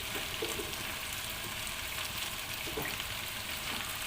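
String beans stir-frying with pork in a pan give a steady, even sizzle that holds at moderate loudness without pause, with faint stirring clinks and no talking.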